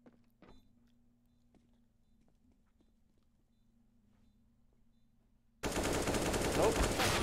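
Counter-Strike rifle spray at long range on the map Cache: a low steady hum with scattered faint clicks, then a sudden loud, dense burst of sustained gunfire for the last second and a half.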